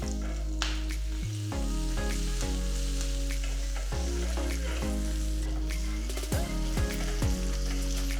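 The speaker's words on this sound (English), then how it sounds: "Once the mustard seeds start crackling, add 2 cloves of garlic with skin." A South Indian tempering of crackling mustard seeds, skin-on pounded garlic, red chilies, asafoetida and curry leaves frying in a small pan. A continuous close sizzle runs under steady background music.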